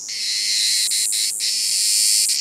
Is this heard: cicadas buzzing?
yes